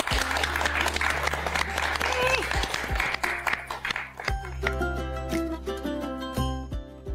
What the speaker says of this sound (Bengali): তাই জোনাকির জন্য সবাই মিলে আরো একবার জোরে হাততালি